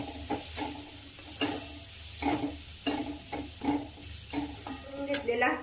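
Onion sizzles in a pan as a spoon scrapes and stirs it in repeated strokes, with spices such as coriander powder and turmeric added, close and clear, for vada pav filling.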